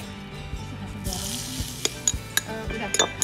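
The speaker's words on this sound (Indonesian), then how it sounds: "Lalu tuangkan minyak yang panas tadi ke dalam mangkuk berisi potongan bawang merah, cabai rawit, dan" Hot oil poured into a bowl of sliced shallots, bird's eye chilies and lemongrass crackles and sizzles up close, with a few sharp pops and light clinks of utensils against the bowl.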